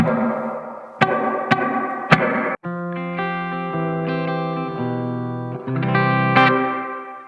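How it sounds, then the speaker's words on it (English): Electric guitar chords and picked notes ring out through a washy, vintage-sounding spring-style reverb on a Blackstar St. James amp, with sharp strums at the start and lingering tails. "It's more like a vintage kind of sounding reverb"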